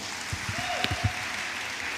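Audience applause at a Nigerian Bar Association Women Forum conference session, a steady wash of clapping from a seated crowd holding at an even level throughout with a few louder claps standing out.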